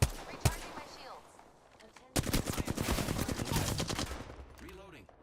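Automatic gunfire rattles loudly in a shooter video game, a sharp burst near the start followed by a dense, sustained volley of rapid shots lasting several seconds, with some voice nearby.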